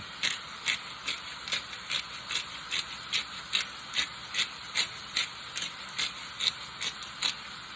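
Black pepper ground in a pepper mill over a pan of savory jackfruit filling for wraps, giving a close, steady series of about twenty crisp ratcheting crunches in an even rhythm.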